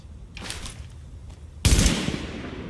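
Gunfire in The Division video game: a few faint distant shots, then a sudden loud close burst of fire with a decaying rumble tail.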